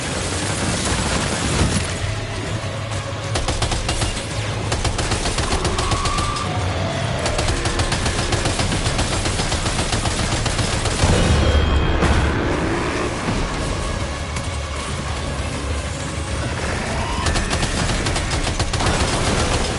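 Sustained gunfire from a Death Stranding 2 firefight, dense overlapping bursts and rattling automatic fire running loud and steady throughout, with heavy booms thickening the middle stretch and no voices.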